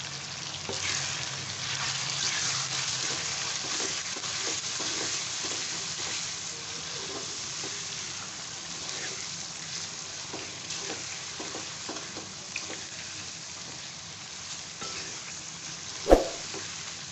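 Red chili, salt, turmeric, green chili, cinnamon, black cardamom and black pepper fry in a pan for a moringa chicken curry, making a continuous close sizzle with stirring scrapes and a sharp knock near the end.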